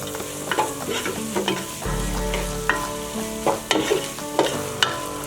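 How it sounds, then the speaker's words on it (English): A biryani base sautés in a hot pan, sizzling steadily while a spoon stirs and scrapes in repeated close strokes, over a soft tonal backdrop and with no voices. "And give it a good saute."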